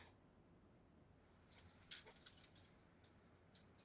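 A set of car keys jangles in short, faint metallic bursts in the second half, starting after a quiet stretch, with no voices.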